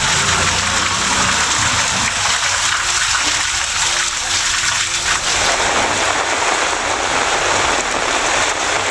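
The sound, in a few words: heavy rain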